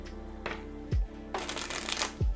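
Tarot cards being shuffled by hand, a couple of quick riffling bursts with soft taps as the deck is squared, close and fairly quiet, no talking.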